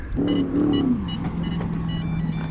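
A car engine revs up and settles into a steady low idle rumble, fairly close and loud, with no talking.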